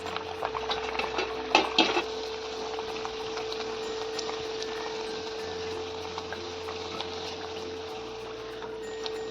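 Bajri masala puris frying in hot oil over a medium flame give a steady, close sizzle throughout, with a brief louder clatter early on and no talking.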